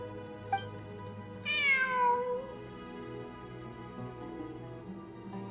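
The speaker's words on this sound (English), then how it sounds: "It really is a cat." A single cat meow inside the Genshin Impact video game, rising then sliding down over about a second, heard mid-clip above a soft, steady background hum.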